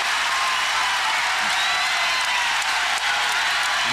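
Basketball arena crowd at an SIU Salukis game at Missouri State roaring after a shot clock violation, a steady, dense wash of cheering and applause throughout, loud and sustained with no pause.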